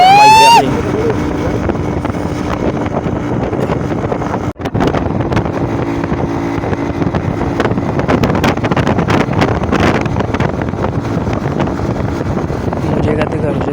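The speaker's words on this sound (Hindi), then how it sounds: "ये मैं मज़े से जा रहा हूँ बाइक पे अपनी" Motorbike ride through malta (citrus) orchards, with steady loud wind buffeting the microphone over a continuous engine drone, one brief dropout partway through.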